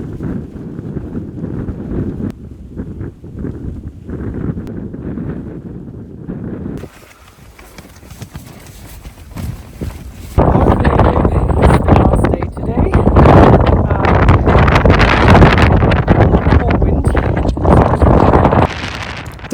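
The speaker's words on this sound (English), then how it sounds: "The wind is still incredibly strong today." Strong Arctic wind roars across a snow camp walled with snow blocks, buffeting the microphone in heavy gusts that ease midway and then surge louder and harsher. A voice talks during the first part.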